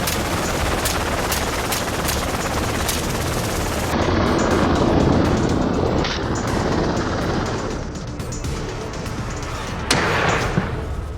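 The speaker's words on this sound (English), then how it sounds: "From the helicopter, a hunter aims an AR-15, taking down hogs with precision." Rapid gunfire from an AR-15 rifle fired out of a helicopter during a hog hunt in Texas, sharp shots cracking in quick bursts over a constant loud rotor and engine roar.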